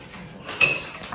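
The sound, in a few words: washing dishes, clinking plates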